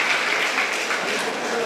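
A crowd at a community student awards ceremony in Mangaluru claps together, a broad, even wash of applause that fills the room at steady loudness, with faint voices mixed underneath.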